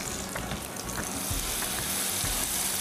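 Hot tempering poured over Marathwada-style bhaji sets off a steady, close sizzle that holds evenly throughout, with faint crackling bursts on top.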